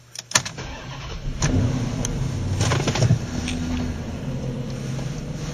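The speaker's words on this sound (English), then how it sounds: "Got the car going backwards very quickly." A car engine starts up with a click and roars steadily, rising and falling in pitch as it revs hard while accelerating in reverse, close by, with no talking.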